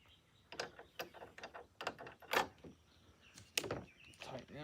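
Ratchet tightening cowl bolts on a Jeep Gladiator, with repeated quick clicking bursts and metallic knocks, close and fairly quiet.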